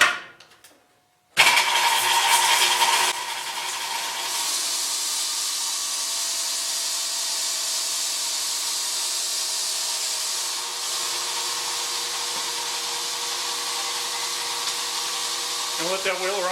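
A Covington 30-inch sawmill starts up once the lid is shut, then runs with a loud, steady mechanical whine and hiss that holds on for several seconds and stays constant.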